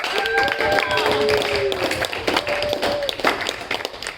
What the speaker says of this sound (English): Sergeant at Arms, this is a special applause for you